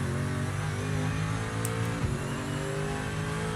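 A race car engine in the Project Motor Racing video game drones at high revs with the rear wheels spinning, a steady loud whine holding throughout with a brief shift in pitch near the middle.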